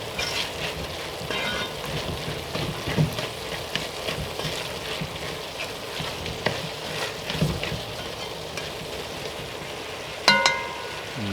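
Vegetables for shepherd's pie sizzle and cook down in a pot, a steady frying crackle with occasional stirring scrapes and a sharper clatter near the end, moderately close and without talk.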